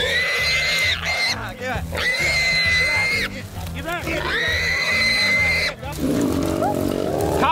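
Wild boar sow caught by hunting dogs, with loud high squeals and shrieks repeating in long bursts over steady low grunting and scuffling throughout, while people talk nearby.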